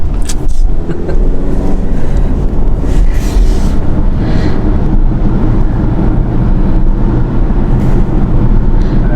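Car engine rumbling loudly and steadily from inside the cabin during a family road trip, a dense low drone filling the whole stretch with no clear break or lull.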